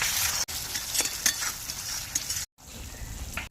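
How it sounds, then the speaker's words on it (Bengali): Tomato sauce being stirred into sautéed spice paste for a koi fish curry gives a steady hiss and sizzle in the pan, with soft scraping strokes of the spoon and one brief gap of silence. "কষানো মশলার সঙ্গে এবার টমেটো সসগুলো ভালো করে মিশিয়ে নেব"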